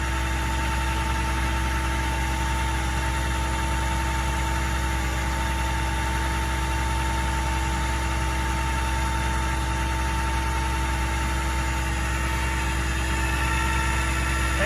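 A vehicle winch spools in a 50-foot line with a steady, loud motorized drone and hum that runs unbroken and even throughout, close by.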